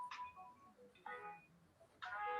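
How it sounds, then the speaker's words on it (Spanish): A phone ringtone sounds during an online literature class, three short melodic bursts spaced about a second apart, moderately clear over a quiet room. "perdón porque me ha sonado un teléfono"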